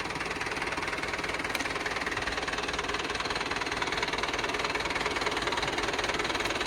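A Mahindra 475 tractor engine idles steadily with an even, rapid knocking chug, close and unbroken, with no voices.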